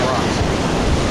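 Waves breaking against rocks along a shoreline near a boardwalk and water park, a dense continuous wash of surf with wind buffeting the microphone, loud and close for a short moment.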